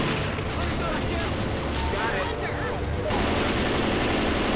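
Rapid bursts of turret gunfire ring out in the Left 4 Dead 2 Helms Deep map, dense and loud, mixed with a chaotic game backdrop.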